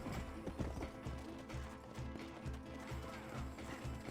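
Rhythmic clip-clop of a horse's hooves in a video game, a steady trotting beat with faint whinny-like tones, fairly quiet and without speech.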